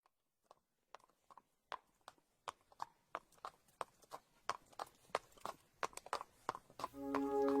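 A horse's hooves clip-clop at a steady walking pace, individual strikes starting faint and sparse and growing louder and closer, ending with a sustained tonal swell of background music.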